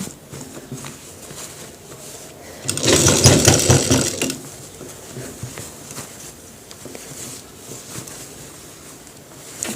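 A sewing machine stitching along a trouser pocket seam, a loud, close, rapid mechanical chatter in one burst of a second or so, surrounded by quieter handling and fabric noise.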